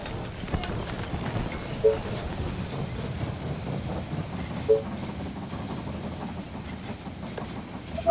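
A train pulling into a station in the strategy game They Are Billions, heard as a steady low rolling rumble with a few sharp metallic clanks spaced through it. No one speaks.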